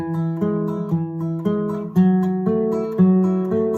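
Steady acoustic guitar fingerpicking, bass notes alternating with a repeated high first string in an even rhythm; clear and close, no voices.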